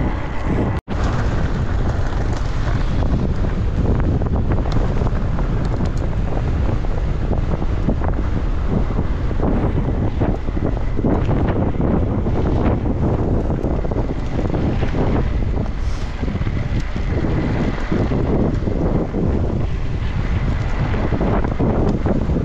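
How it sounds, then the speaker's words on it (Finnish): Strong southerly headwind buffets the microphone of a rider on an e-mountain bike, a loud continuous roar and rumble that lasts throughout with brief gusty surges. "Taas etelätuulta, että nyt tuulee suoraan vastaan."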